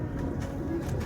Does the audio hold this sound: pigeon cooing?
yes